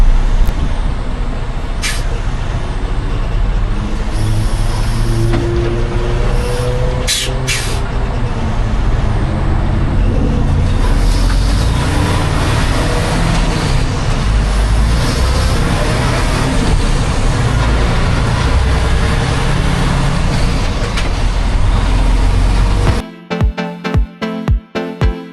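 A CRST flatbed semi truck drives down the road, its engine and tire drone forming a loud, continuous low rumble for most of the stretch before it cuts off into choppy, stuttering noise near the end.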